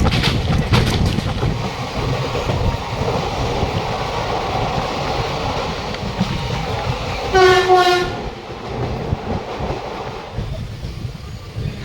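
Black Diamond Express, a long 22-coach train, pulling into Sheoraphuli Junction in rain: steady rumble and clatter of wheels throughout, with a loud horn blast near the middle.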